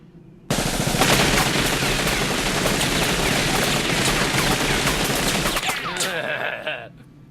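Sustained automatic gunfire rattles continuously for about six seconds in an anime battle scene, loud and dense rapid bursts that trail off into echoes at the end.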